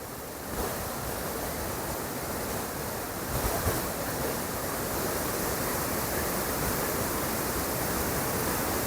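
Steady, dense rushing water from a waterfall in Chaiyaphum, Thailand roars without a break, a broad continuous wash of noise with a slight swell partway through and no voices.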